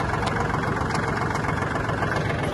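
Kubota L1-185 Japanese mini tractor engine running steadily at idle, a continuous loud low diesel rumble with rattling vibration throughout, close up and without voices.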